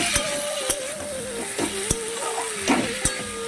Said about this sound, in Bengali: এবার নাড়ি চাড়িয়ে দিয়ে আমি হালকা আঁচে চাপা দিয়ে দেবো